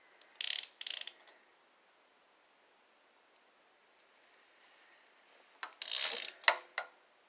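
Ratchet wrench tightening a spark plug on a 2015 Chrysler 200 Limited: two short bursts of quick clicking, a quiet pause, then another close cluster of ratcheting clicks with a final sharp click.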